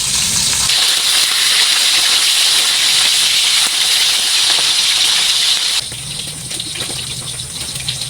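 Fish frying in a pan, a loud, steady hissing sizzle of hot oil that drops somewhat in level toward the end, with no talking.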